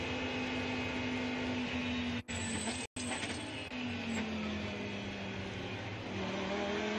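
Lamborghini Super Trofeo race cars at Imola sound as a loud, continuous engine roar with shifting pitch as they work through the end of the lap, briefly cutting out once or twice.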